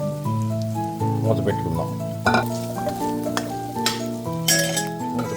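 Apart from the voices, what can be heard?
prawns added to frying onion paste and stirred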